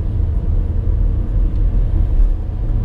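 Opel Ampera-e electric car driving at steady speed, a continuous low road rumble and tyre noise from inside the cabin, fairly loud and even throughout, with no talk.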